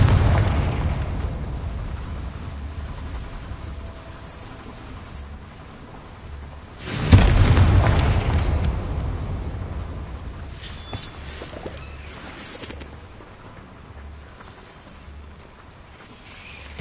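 In Hogwarts Legacy, a Confringo fire spell goes off as a single loud, booming blast midway through, rising out of a low rumbling game soundscape and fading into a lingering roar.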